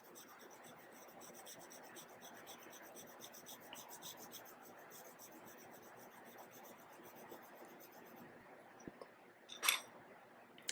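Graphite pencil shading, a soft 6B layered and blended over 2B on paper, heard as a faint continuous dry rasping scratch close to the microphone, with a small tap near the end.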